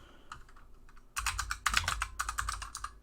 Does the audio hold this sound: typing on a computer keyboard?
yes